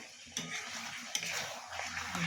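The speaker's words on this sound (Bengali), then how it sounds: "ফ্লেমটা বাড়িয়ে ভালো করে মাংসটা কষিয়ে নিচ্ছি" Chicken pieces are stirred and fried in a pan over a raised flame, with a soft sizzle beneath scraping strokes and a few sharp utensil knocks, close and moderately quiet.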